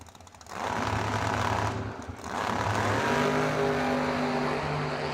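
Twin-turbo LS-powered drag race car at a bracket drag racing event, a loud sustained engine roar that swells and dips briefly, then rises again with a steady droning exhaust tone.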